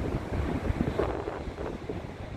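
Sea waves roll and wash in a steady, close rush, with gusting wind buffeting the microphone throughout and no talking.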